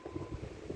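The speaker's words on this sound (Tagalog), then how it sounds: "grabe yung hangin dito guys" Strong wind buffets the microphone outdoors in a backyard garden near sunflower seedlings, a steady low rumbling roar with gusty swells throughout the short stretch and no talk.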